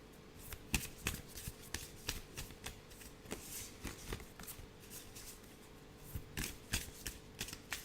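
Papery, unglossed oracle cards being shuffled by hand, giving a steady run of soft riffling rustles and sharper flicks and taps, fairly quiet and close, with no voices.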